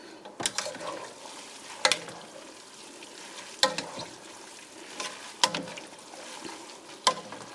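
A spatula mixing smoked sausage pancit bihon in a pan, with a soft frying hiss underneath and sharp metallic scrapes and knocks recurring about every one and a half seconds.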